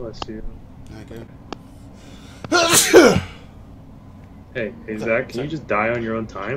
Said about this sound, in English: Chill out all that sneezing shit, okay?